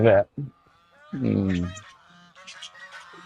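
A domestic fowl breed resembling a goose gives a few loud, nasal honks close by, short bursts followed by a longer call, with faint background sounds between.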